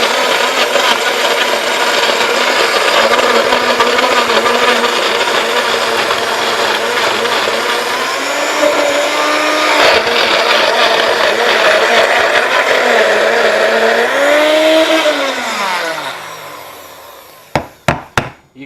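Countertop blender churning a low-carb smoothie of heavy cream and ice, a loud steady whir that shifts pitch as the mix thickens and stalls, then winds down and stops, followed by a few sharp knocks.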